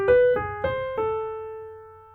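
Four plucked guitar notes in a lick built from minor-third cells stepping up by half steps, each attack clear and close, the last note left to ring and fade alone.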